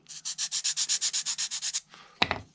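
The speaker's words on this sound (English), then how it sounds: "Hit it with the sanding block." A sanding block rubbed over a balsa model airplane wing part, about thirteen steady rhythmic strokes close up, followed by a brief pause and a sharper scuffing knock at the end.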